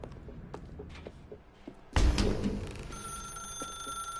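A telephone rings in The Stanley Parable Ultra Deluxe game, bursting in loud and close halfway through after quieter shuffling, then holding a steady electronic tone.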